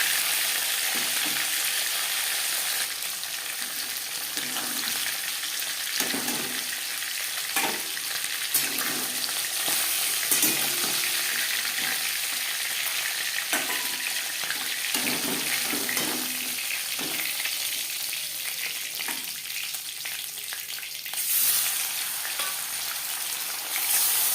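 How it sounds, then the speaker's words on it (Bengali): Silver carp pieces fry in oil in a pan with a constant close hiss and crackle, punctuated by soft bumps as pieces are moved or turned, with no voices. "ভাজা হয়ে গেলে অপর সাইডটা উল্টে দেবে"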